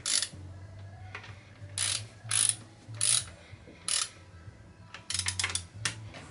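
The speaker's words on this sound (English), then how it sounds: "wind it down with the nuts even either side" A ratchet wrench clicks in short repeated bursts while tightening connecting rod cap nuts on a budget RB30 engine bottom end, close up with metallic pawl chatter and brief pauses between strokes.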